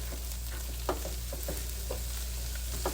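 Pork chops fry in a pan with a steady sizzle, broken by a few soft clinks and scrapes as they are tossed around; no one talks.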